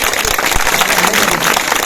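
Loud, dense applause from a crowd at a construction workers' free utensil-kit camp in Phulambri taluka, continuous hand clapping filling the whole moment.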